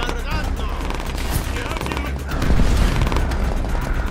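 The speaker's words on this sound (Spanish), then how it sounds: "Nos habían lanzado granada." Dense gunfire and a burst from a thrown grenade in Call of Duty: World at War's Stalingrad fighting, steady heavy rattle throughout with a louder surge in the second half, a voice talking over the combat.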